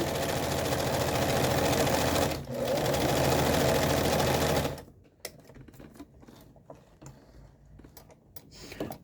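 A sewing machine runs a tight zigzag stitch around the edge of a small blue plush monster toy, a loud steady whir for about five seconds, then stops, leaving faint clicks and handling sounds.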